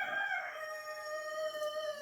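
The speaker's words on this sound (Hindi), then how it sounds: "एक तो ये मुर्गा जो है ना" A rooster crows close by in one drawn-out, harmonic call lasting about two seconds, loud and clear with no talking over it.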